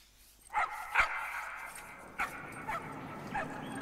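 Dogs in the video game Trover Saves the Universe give a few short barks and yips, then whimper softly, fairly close and alone without talk.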